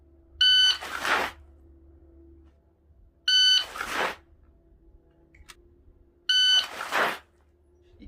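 Three loud electronic beeps from a shot timer buzzer, evenly spaced about three seconds apart, each a sharp harmonic tone over a low steady hum, at a USPSA turn-and-draw pistol practice.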